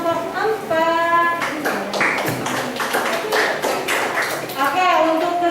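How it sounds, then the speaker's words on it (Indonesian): Classroom clapping for a student group during a teaching practice session, a few seconds of scattered hand claps mixed with children's voices and chatter. "Tepuk tangan untuk kelompok 4."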